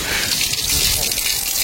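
Water gushes from a hose into a van's tank, a loud, steady rushing hiss with a wet, splashing texture that stays constant throughout.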